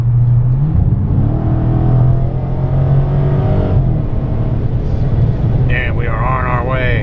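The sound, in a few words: 2018 Dodge Challenger 392 Hemi R/T Scat Pack driving off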